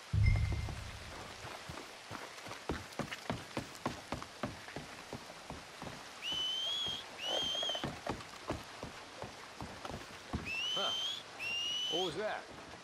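A video-game character whistles a few short two-tone calls to draw attention, clear against steady rain pattering and dripping nearby.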